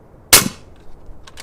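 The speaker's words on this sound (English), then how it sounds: "let's go ahead and shoot some Armscore 220 grain subsonic 300 Blackout rounds through this bad boy" A single subsonic 300 Blackout shot through an OSS RAD 9 suppressor: one sharp, close crack with a quick decaying tail, followed by faint clicks.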